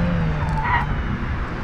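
A lightweight VW Golf I tuning car or Mazda MX-5 NA slides sideways with its tires skidding. The skid is brief and hissing over a steady engine drone, with a faint squeal in the middle.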